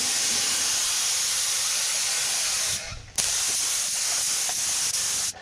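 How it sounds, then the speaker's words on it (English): A two-pack paint sprayer hisses in a loud, steady spray during rust repair work on a 4x4, with one brief pause before spraying resumes. "When you spray with the two-pack sprayer"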